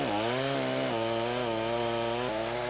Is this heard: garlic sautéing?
no